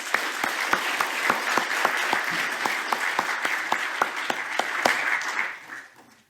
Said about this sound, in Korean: 감사의 박수를 먼저 보겠습니다.